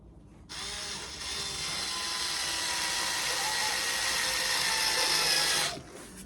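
A screw is driven into the corner of a cigar box without a pilot hole, giving one continuous whirring, grinding drive that runs for about five seconds before stopping.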